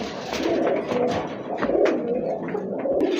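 A male red-tailed (lal dom) pigeon coos in low, throaty rolling phrases, close up over a busy background murmur of other birds, continuing steadily throughout.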